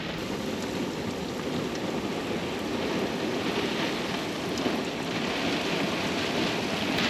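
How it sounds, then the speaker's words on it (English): Steady rain falls over a boat anchorage, a dense, even hiss of drops on water and surfaces that holds unbroken throughout with no voices. "the rain finally reached our anchorage"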